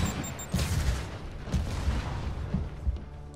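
Rapid bursts of gunfire aimed at Spider-Man in the Marvel's Spider-Man video game, several sharp booming shots in quick succession, loud and close, with no talk.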